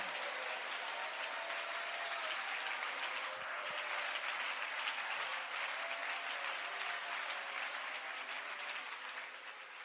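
A church congregation claps hands continuously, a dense steady wash of clapping that holds level throughout, with voices faintly mixed in.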